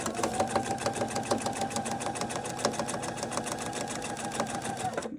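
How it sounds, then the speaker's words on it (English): A sewing machine stitches along the fold line of a filigree side quilt block, its needle chattering in a fast, even rhythm at moderate volume, steady throughout and then stopping right at the end. "now we're going to stitch right along that edge of that fold line"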